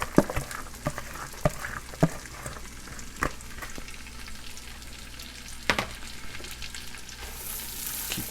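Onions and green onions frying in a pan with mushrooms and garlic, a steady close sizzle broken by irregular sharp clicks and scrapes of a spatula stirring.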